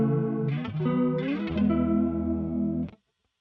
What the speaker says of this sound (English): So I'm gonna go into my next insert here and let's put a chorus,